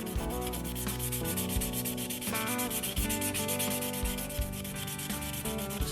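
A vintage Kabar Trapper knife blade being sharpened on a Work Sharp belt sharpener at high grit, a steady close grinding rub with a humming motor tone running throughout, no voices.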